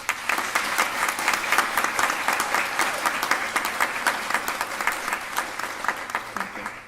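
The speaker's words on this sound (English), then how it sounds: "Please applaud these students." Audience applauding graduating students at a weekend college commencement ceremony, a steady wash of many hands clapping at moderate distance, continuous for several seconds with slight swells.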